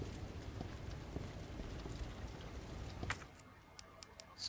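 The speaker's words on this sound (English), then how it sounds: "I want to know why it's raining." Soft, steady rain in Resident Evil 2 (Remake) patters on a surface, fairly faint, with a few sharper drips and taps toward the end.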